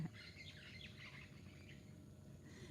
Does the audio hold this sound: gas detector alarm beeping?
no